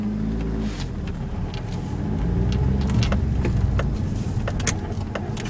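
Steady car engine drone in a VR stick-shift driving game, with a swell in loudness midway as the revs climb and brief clicks of gear shifting near the end, constant and close throughout.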